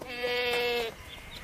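A young goat kid in a cartoon gives a single sustained, wavering bleat lasting under a second, fairly close and clear, followed by quiet.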